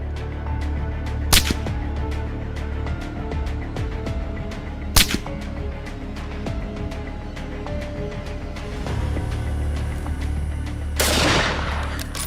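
Two sharp, loud rifle shots ring out several seconds apart during a wild hog hunt, over steady low outdoor noise, followed later by a brief burst of broadband hiss.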